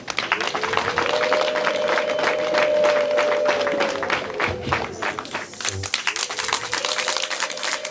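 Wedding guests applaud at the marriage of Tuyizere Mubaraka and Uwimpuhwe Hassina. Dense, continuous clapping runs throughout, mixed with a sustained sung or musical tone and some voices.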